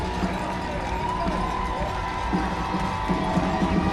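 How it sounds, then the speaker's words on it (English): Spectators at the Boilermaker race finish line cheer and shout in a continuous crowd roar, with voices and whoops mixed through the din. "Big round of applause"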